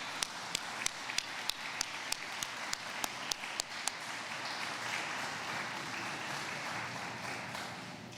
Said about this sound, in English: I want to give a round of applause to everyone in the room who helped make this